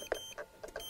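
A Yuneec Typhoon Q500 4K quadcopter drone gives a quick series of four soft electronic beeps in about a second, close and fairly quiet, with no talking.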